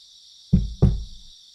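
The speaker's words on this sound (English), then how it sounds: "Oh, knocking." Two quick, hollow knocks on a door in the video game Iwaihime sound close and clear over a faint steady high hum, then fade into quiet.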